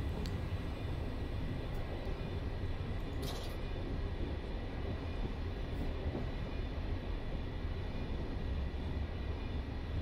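A train in Train Simulator 2, a regional express on the Erfurt to Nuremberg route, rolls along with a steady, loud, broadband rumble and brief faint clanks, continuous and unvarying for the whole stretch.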